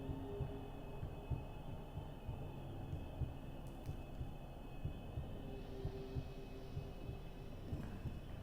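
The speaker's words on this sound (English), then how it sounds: "My heart is beating so much" A steady, muffled heartbeat thumps at a regular pulse in Amnesia: The Bunker, low and soft, over a constant background hum that persists throughout.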